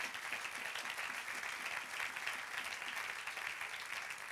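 Church congregation applauding during a sermon by Pastor Juan Radhamés Fernández: a faint, even roar of many hands clapping, steady throughout and heard alone without speech.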